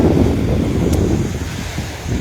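Ocean waves wash in at a shoreline where someone stands with feet in the water, a steady broadband rush heavily buffeted by wind noise on the microphone, with no talk over it.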